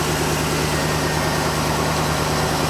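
A 2007-2013 Chevrolet Silverado engine idling with a steady, even drone, close and continuous.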